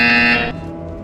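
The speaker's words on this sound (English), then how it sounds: "You will hear a buzzer." A loud, harsh electronic buzzer sounds in the Portal Stories VR video game, holding steady for about half a second before cutting off into a low background hum.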